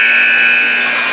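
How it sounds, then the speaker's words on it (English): An arena buzzer sounds the end of the first period in a hockey game between South Side Steel and Northern Wings, a loud, sustained electronic drone held steadily throughout. "And that's the buzzer for the end of period number 1."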